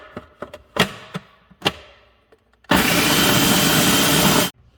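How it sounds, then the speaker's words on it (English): A food processor grinds oats into flour in one loud continuous whir lasting about two seconds. Before it, a few sharp clicks and taps are heard as the machine is handled. "I'm going to grind these up, and I'm going to make oat flour."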